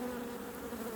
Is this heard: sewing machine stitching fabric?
no